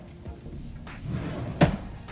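An Ikea drawer tower in a craft room has a drawer pulled open, a soft sliding rub ending in a brief, sharp knock, close and fairly quiet, without speech.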